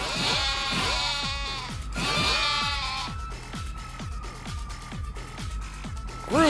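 Loud sheep bleats from the video game Yakuza: Like A Dragon ring out for a few seconds, then give way to a steady run of low rhythmic thumps with a faint sustained tone, and no voices.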